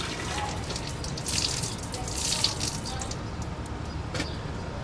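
Hot soapy water is poured into a cleaned-out engine cylinder of a 2007 Honda CR-V under head gasket repair, making a continuous close splashing, gurgling trickle for several seconds.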